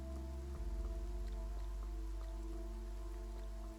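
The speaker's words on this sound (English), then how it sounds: "So yeah, it's still raining." Rain falling in the overworld of the video game Infinity Nikki: a steady, soft patter with faint scattered drops, sitting beneath sustained game music for the whole stretch.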